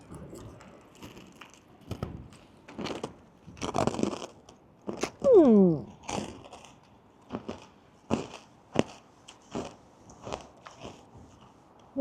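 Sticky, crisp Little New Year sugar candy is bitten and chewed close up, giving a series of sharp crunches and crackles spread over several seconds, with a brief vocal exclamation midway.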